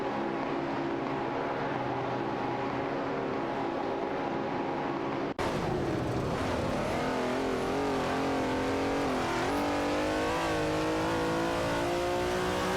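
Race cars, among them a Ferrari 365 GTB Daytona and a 1969 Dodge Charger Hemi, roar in a racing video game with a steady, loud engine drone, then a sharp cut into rising, wavering revs as they accelerate away.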